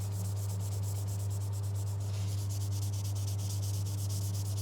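Fine 2000-grit paper rubs back and forth in a rapid, steady rhythm while wet sanding nitro lacquer on a guitar body, close, over a constant low electrical hum.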